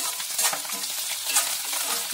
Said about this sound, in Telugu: ఇప్పుడు కర్రీ లీవ్స్ కొంచెం వేసుకుంటున్నాను. కర్రీ లీవ్స్ కూడా వేసుకొని ఫ్రై అయ్యాక